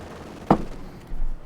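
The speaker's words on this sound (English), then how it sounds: "Bit of an explosion there from the field gun." A single sharp blast from a field gun in Company of Heroes 2, a Wehrmacht versus Soviet match, hits once and fades, followed by a low, muffled rumble.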